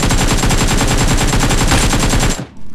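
Sustained automatic gunfire from a machine gun and AKM rifle in the BGMI mobile battle royale game, a loud, dense, rapid stream of shots lasting over two seconds before cutting off abruptly.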